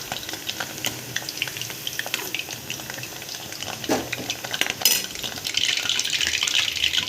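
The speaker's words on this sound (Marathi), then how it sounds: "तर हे आता आपण तळून घेऊया।" Vegetables fry in hot oil for a cabbage and potato gravy, giving a low crackling sizzle dotted with utensil taps and scrapes, then a louder burst of frying toward the end, with no speech.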